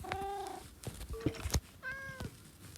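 Cat meowing in a French horror-style video game set in a foggy village, with several clear, drawn-out meows separated by short pauses and a few soft clicks and thumps between them.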